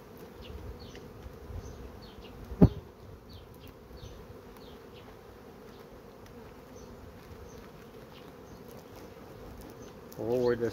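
A steady, low drone of honey bees buzzing close around a hive while a honey frame is uncapped, with a brief knock partway through.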